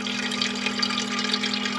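Filtered water pours steadily from a homemade countertop water pump into a container, a continuous close splashing stream with a constant hum underneath and no talking.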